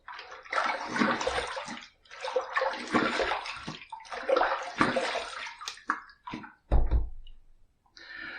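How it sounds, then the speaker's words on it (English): Face rinsed with water after a wet shave with shark-themed soap, repeated bursts of splashing and running water in a sink, close, with short pauses and a few knocks between splashes. "Second pass done. Let's rinse."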